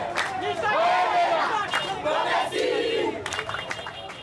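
Residents of Kinshasa shouting and cheering loudly outdoors as police vehicles leave, voices overlapping in a sustained roar that rises and falls throughout.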